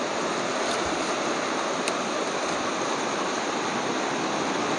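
River water rushing and flowing steadily at close range in the winter season, a dense continuous wash of broadband noise with no speech over it.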